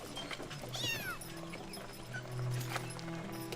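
Hungry kittens give a couple of short, high mewing calls, one a rising-and-falling cry, over a low steady hum in a quiet domestic room.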